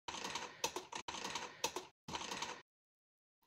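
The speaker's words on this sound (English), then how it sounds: "If I keep typing here" Typing on a computer keyboard during a coding lesson, rapid clattering key bursts in three runs, close and clear, with no talking, then a brief silence.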